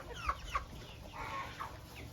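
Domestic turkeys in a poultry house drinking from a bucket: a couple of short, sharp clucks near the start, then softer gobbling and chatter over a steady low barn hum.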